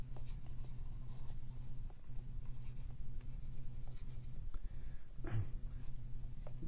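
Chalk or marker scratches steadily across a board in a lecture hall, a continuous soft scraping with brief pauses between strokes, fairly close with a low hum behind it.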